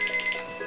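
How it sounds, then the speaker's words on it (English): A kitchen-style timer alarm goes off with a few quick, bright electronic beeps in a row, loud and close, then stops. "Oh, geez, I forgot to reset the timer again."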